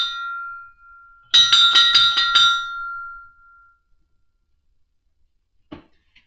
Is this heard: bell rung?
yes